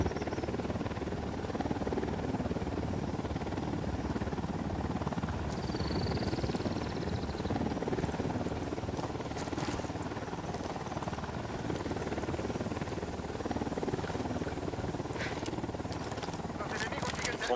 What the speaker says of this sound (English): Who need that chopper?